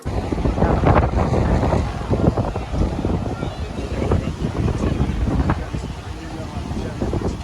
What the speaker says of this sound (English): It was very windy that day at the beach.